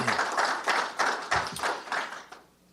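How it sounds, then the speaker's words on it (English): Applause for coaches and student athletes at a university athletics press conference, a burst of steady clapping from a modest audience that swells in waves and then fades out near the end. "So big round of applause again for all of our coaches and our student athletes who accomplished that feat."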